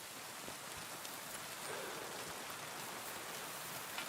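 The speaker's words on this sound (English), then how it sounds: "Oh, it's raining too." Continuous rainfall in the game Kingdom Come: Deliverance II, medieval Bohemia, an even wash of drops hitting surfaces, steady and moderately loud with no one speaking.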